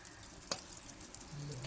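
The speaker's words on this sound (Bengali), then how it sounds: "আর লঙ্কা ভাজা ভাজছি, এগুলো দিয়ে খাবো।" Eggplant slices and green chilies fry in a pan at home, giving a soft, steady sizzle with one sharp utensil tap near the middle.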